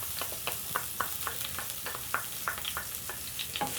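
Onion frying in leftover sausage oil in the same pan: a soft, continuous sizzle dotted with quick scraping stir strokes, close but fairly quiet, and no one speaking.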